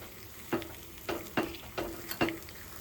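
Appe batter frying in an appe pan, a soft steady sizzle broken by five evenly spaced clinks and scrapes as the pieces are turned one by one, close and fairly quiet with no talk.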